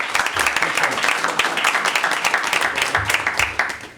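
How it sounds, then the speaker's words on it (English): A room full of people applauding, a dense burst of clapping that stays loud and steady throughout. "I think we owe this guy here a round of applause"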